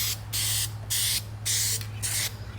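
A spray can lays down light coats in four short bursts, each a soft hiss lasting under half a second with pauses between, alone over a low steady hum.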